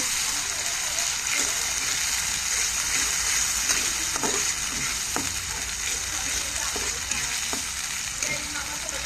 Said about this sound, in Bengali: ভাটা মশলাগুলো দেওয়া হলে তিন থেকে চার মিনিট কষিয়ে নেব